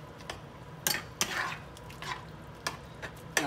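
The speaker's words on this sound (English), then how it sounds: "Now let's mix this together" Creamy Tuscan garlic chicken being stirred in a pan, with a few scraping, clinking strokes of a utensil against the cookware over a faint sizzle, close by and spaced out irregularly.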